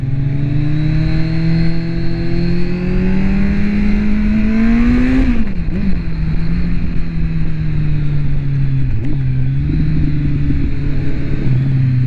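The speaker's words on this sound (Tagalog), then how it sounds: "May bus, may traffic." Kawasaki Z1000 motorcycle engine droning steadily in road traffic with a bus nearby, a loud continuous rumble with a pitch rise and dip midway as the bike revs and settles.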